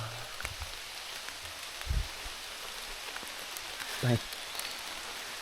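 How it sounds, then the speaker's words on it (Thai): Heavy rain falls outdoors in cold weather, a soft, continuous wash of hiss heard from a distance, broken by a couple of brief low thumps and a short spoken word. "ฝนตกก็เริ่มหนักเลย"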